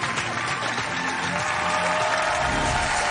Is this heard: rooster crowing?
no